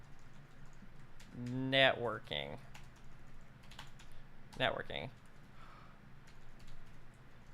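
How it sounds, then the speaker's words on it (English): Typing on a computer keyboard during a home lab networking livestream, a steady patter of soft clicks running under two short bursts of talk. "I'm not typing well today."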